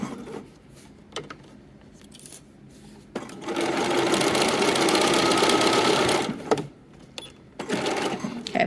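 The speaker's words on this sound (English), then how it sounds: "I'm stitching right on the edge just where my hole is" A sewing machine with an even feed foot stitches along the edge of a double-layered baby blanket, first a few short bursts, then a steady loud whirring run of about three seconds, then stopping and restarting.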